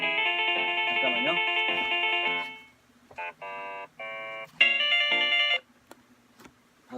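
A mobile phone ringtone goes off during a church sermon: a loud, bright melodic tune rings steadily, breaks off, then returns in several short bursts before stopping, with faint room sound between.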